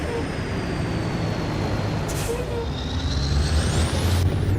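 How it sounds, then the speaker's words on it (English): A truck's air brake hisses in American Truck Simulator, set against a steady engine and road drone, with a sharp release burst around the middle and another near the end. "Air brake sound is still sounding good."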